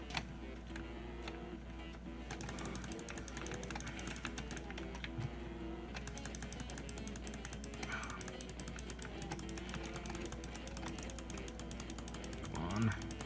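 Rapid clicking of keyboard keys on a DOS computer while playing Doom, tapped in quick irregular bursts close to the microphone over a low steady hum.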